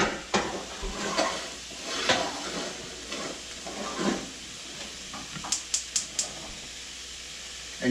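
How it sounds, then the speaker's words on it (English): Sausage sizzles with tomato sauce simmering in a pan, a soft steady hiss broken by scattered clinks and stirring scrapes, with a few sharp utensil taps toward the end. "this can start to simmering while your sausage is cooking"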